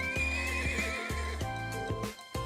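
Horse in the video game Trails of Cold Steel neighing, a clear, close whinny with a wavering pitch, followed by soft hoof clops and short snorts.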